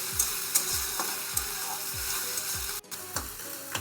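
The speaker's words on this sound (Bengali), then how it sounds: "তো আর একটু ভালো করে ভেজে নিচ্ছি" Ginger-garlic paste frying in a pan for a Bengali rohu and bitter gourd fish curry, a steady close sizzle with repeated scraping stirs at a regular pace and one brief drop near the end.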